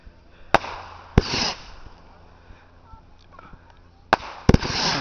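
Backyard 25-shot firework cake fires sharp bangs at about 0.5, 1.2, 4.1 and 4.5 seconds, each followed by a brief hissing crackle, loud and fairly near, with quiet gaps between bursts.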